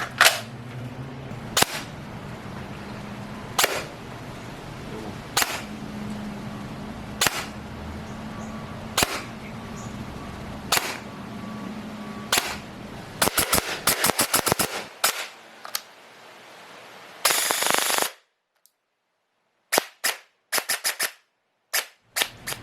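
A Valken ASL airsoft rifle fires during a chronograph test: single sharp shots at regular intervals of about two seconds, then quick bursts of rapid fire, loud and close, with a brief silent gap near the end.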